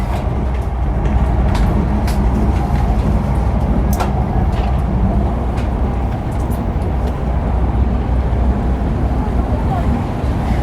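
Steady low rumble and hum inside a moving passenger train from Johor Bahru to Kuala Lumpur, with faint clicks and rattles over the constant drone.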